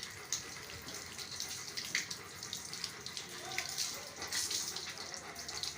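Steady rushing water spray from a hose pipe with a bright hiss, continuous and fairly close, with small splashy fluctuations throughout, while bathing a Rottweiler.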